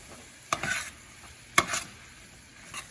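Pasta sauce with added Italian seasoning stirred in a pan, a couple of sharp scraping strokes with a soft sizzle between them, close and fairly quiet.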